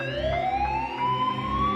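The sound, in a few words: police siren sound effect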